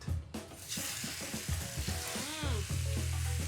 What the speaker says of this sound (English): we're going to saute the squid.